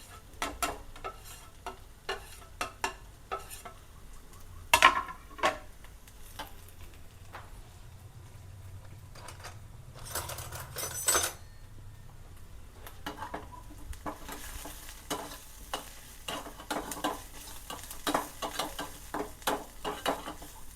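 Spices for curd sambar tadka frying and being stirred in a pan with chilli powder and turmeric, with sizzling and frequent scraping and clinking of utensils throughout, near and without talk.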